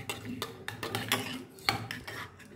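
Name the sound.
mixing cracked egg with chopped onion and salt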